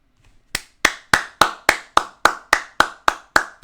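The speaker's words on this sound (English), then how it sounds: "Let's get a round of applause" A single person clapping near and alone, about eleven sharp, evenly spaced hand claps in a steady rhythm after a brief quiet start.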